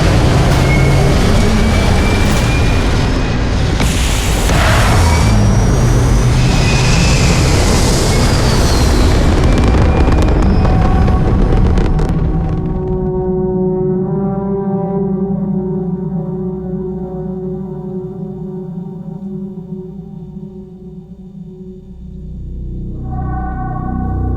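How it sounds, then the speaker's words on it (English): A spaceship lifts off in Starfield with a roaring, rumbling thrust that builds loud for about twelve seconds, then fades into a sustained hum with steady tonal drones as the craft climbs, alone without talk. "Takeoff looks good."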